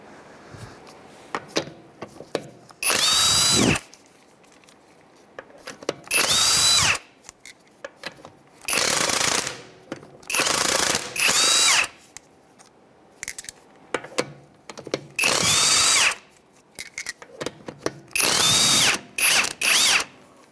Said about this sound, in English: We're going to use a 17mm socket and go ahead and take out the lug nuts and the tire.